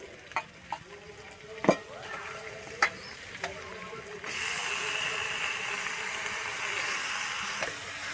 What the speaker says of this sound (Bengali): আমি চিকেনটা কিন্তু দিয়ে এখানে এক থেকে দু মিনিটের জন্য কিন্তু আমি ভেজে নেব